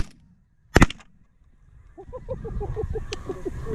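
A single sharp, loud shotgun blast goes off during a snow goose hunt, followed after a quiet pause by a chorus of honking geese and faint voices.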